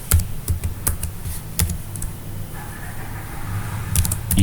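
Keys clack on a computer keyboard in irregular bursts of sharp, close taps, with pauses between short runs of typing and a low steady hum underneath.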